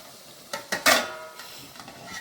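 Homemade prawn thokku masala cooks slowly in a pan while a spoon stirs it, giving a few scraping clinks over a soft, bubbling sizzle.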